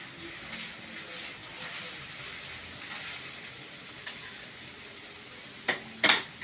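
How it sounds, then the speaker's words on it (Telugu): Onions frying in a pan until golden brown sizzle in a continuous, crackly hiss at close range, and a few sharp clinks of a utensil against the pan come near the end. "ఉల్లిపాయలు కొంచెం గోల్డెన్ బ్రౌన్ కలర్ వచ్చే వరకు వేయించుకుందాం"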